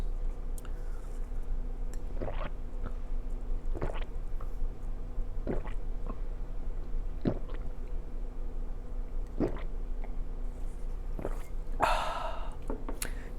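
Strawberry Hi-Chew candy being chewed close up, soft sticky squishes and wet smacks recurring every second or two over a low steady hum, with a brief louder rustle near the end.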